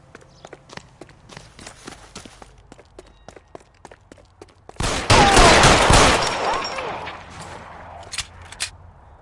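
Gunfire in the L.A. Noire video game: a run of sharp footsteps or scattered shots leads into a dense, loud burst of rapid firing lasting over a second, followed by a few more isolated cracks.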